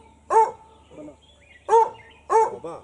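Hunting dogs bark outdoors during a bow hunt on the Anamoutou estate in Saint-Benoît, Réunion: three sharp barks at uneven intervals, moderately near, with a soft secondary yelp between them.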